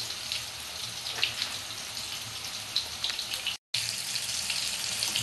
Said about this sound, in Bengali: একটু ভালো করে লাল লাল করে ভেজে নেব